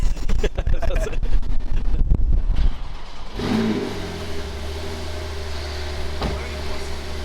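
An ABT wide-body Audi SQ7 with a V8 diesel and Milltek exhaust sound controller revs hard with a rough, pulsing roar buffeted by wind, then settles to a lower steady drone as voices talk over it.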